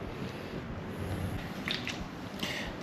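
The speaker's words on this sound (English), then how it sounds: "Don't wring it out when you're doing it, just squeeze it." A foam air filter from a small dirt bike is squeezed in biodegradable solvent, giving soft, quiet squishing and dripping sounds at close range over a low background.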